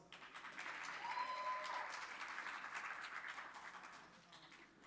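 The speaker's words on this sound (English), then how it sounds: "One more round of applause." Sustained audience applause fills a music festival hall, a dense steady wash of many hands clapping at fairly even loudness, with a brief whistle-like tone near the start.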